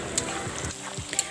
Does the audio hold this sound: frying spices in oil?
yes